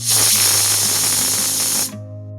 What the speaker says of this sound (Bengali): এবার প্রেসারে সিটি দিয়ে নিচ্ছি।